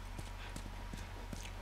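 Horse hooves clip-clop at a steady walking pace in The Last of Us Remastered video game, with evenly spaced distinct steps over a constant low background hum.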